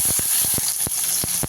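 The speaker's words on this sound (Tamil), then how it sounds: "எண்ணெய் காஞ்சிடுச்சு. இப்போ நம்ம சின்ன வெங்காயம் சேர்த்துக்கலாம்." Shallots dropped into hot oil in a kadai give a continuous close, bright sizzle, broken by several short crackling pops.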